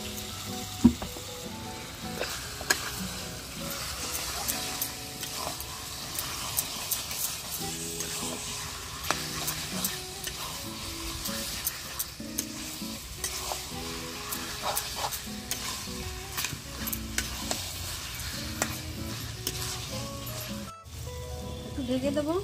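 Chicken pieces fry and get stirred into a thick spiced masala with sour yogurt and a little sugar over a clay stove, a steady crackling sizzle with scraping strokes running throughout, fairly close but low in level.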